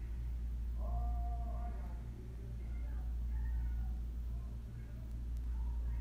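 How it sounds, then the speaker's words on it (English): A house cat meows a few times, soft and fairly distant, under a steady low hum and faint background voice. "My cat is in the way."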